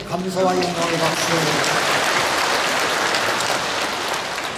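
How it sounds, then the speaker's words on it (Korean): A church congregation claps during a Sunday worship service, steady broadband applause filling the whole stretch, with a voice speaking or singing over the start. "하나님께 감사와 영광의 박수"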